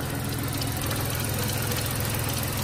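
An old van that had not started in eight years runs steadily at close range, its continuous engine drone carrying a fine ticking texture throughout, with no talking.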